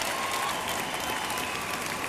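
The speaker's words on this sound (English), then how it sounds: "Let's give them all a nice round of applause" A large audience at a magic awards show gives a steady, dense round of applause that holds evenly throughout.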